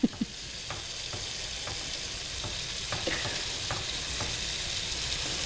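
Heavy whipping cream sauce sizzling in a hot pan, a steady bubbling hiss broken by several soft scraping stirs of a utensil, close and moderately loud with no voices.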